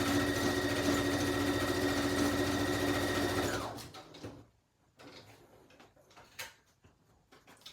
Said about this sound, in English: I'm going to sew down the center of this one to hold both on